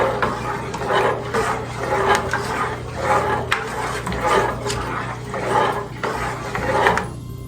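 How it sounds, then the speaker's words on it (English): A spoon stirs eggnog made with almond milk, cinnamon, nutmeg and whole cloves in a pot, making repeated rhythmic scraping and swishing strokes, close up over a steady low hum. "keep stirring this around."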